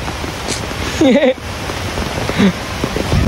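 Heavy rain falls in Mumbai near Churchgate, a steady loud hiss of drops on surfaces, with a person's brief vocal sounds rising above it twice.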